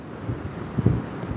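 Wind gusting on a Florida beach while shelling, a steady low rumble of buffeting against the microphone that swells briefly near the middle, with no voices.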